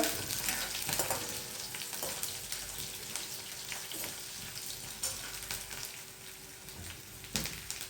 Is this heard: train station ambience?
no